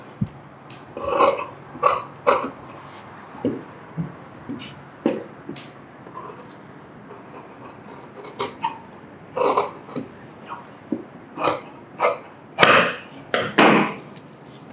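Scissors cutting a cloth piece for a school pinafore uniform, a series of close, crisp snips and handling thumps spaced irregularly across the stretch.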